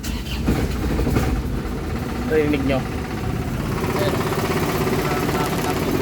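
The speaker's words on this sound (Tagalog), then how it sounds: "So papaandarin ko guys, tingnan nyo hindi ko pa apakan accelerator pedal, paandarin ko, pakinggan yung makina" An Isuzu Crosswind engine idling steadily with a rough, continuous mid-pitched rumble, close by, while someone speaks briefly over it.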